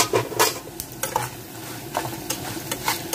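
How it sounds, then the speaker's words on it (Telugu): Tempering spices crackle and sizzle in a pan, broken by several sharp scrapes and clinks as a spoon stirs against the metal, close up and irregular, with no talking. "పోపులు వేగుతున్నాయి కదండి"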